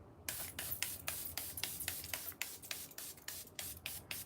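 Art Naturals Soleil mineral water cooling spray misted from its pump bottle, a quick series of about a dozen short, even hissing spritzes in a steady rhythm, close and clean.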